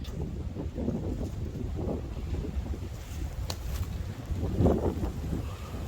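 Strong gusty wind buffets the microphone at a campsite, a steady low roar with louder surges near the start and again toward the end, and no talking.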